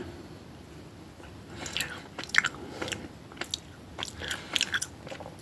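Someone bites into and chews a chocolate-covered gummy bear candy, producing close, moist crunching and squishy chewing bursts that come in irregular clusters over a quiet background.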